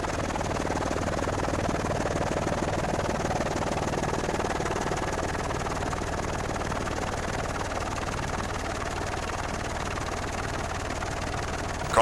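Helicopters hovering over a water ski race at Catalina give a steady, loud rotor chop and engine drone, dense and continuous, with a rapid thudding pulse throughout and no voices.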